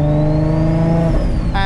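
Turbocharged Infiniti G35 coupe with an 883 whp VQ V6 and equal-length HR headers revving hard nearby, a loud raspy exhaust note climbing steadily, then falling off with a turbo whine rising near the end.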